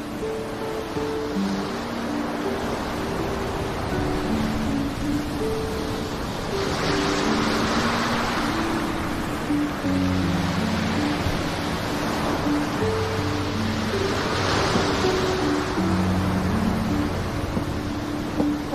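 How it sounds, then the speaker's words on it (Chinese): Loud ocean surf at a seaside spot with a glass house, a steady wash of waves swelling and breaking in slow surges under faint background music. "海浪的声音比较大。"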